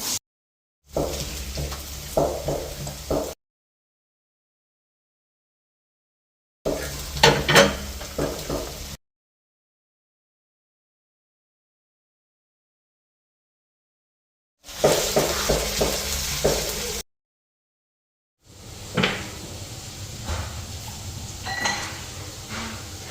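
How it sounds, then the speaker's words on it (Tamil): Potatoes and carrots fry together in a pan, a steady close sizzle with stirring scrapes, heard in several separate stretches broken by silent gaps. "பேனில் இது எல்லாத்தையும் நாங்கள் இப்போ பொறிச்சு எடுக்க போகிறோம்"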